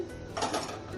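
A metal wok (kadai) is set down on a kitchen stove with a brief, dull clatter, close and fairly quiet.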